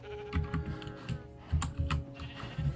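Typing on a computer keyboard, several quick clustered keystrokes in short bursts, close and fairly clear over a faint steady background tone.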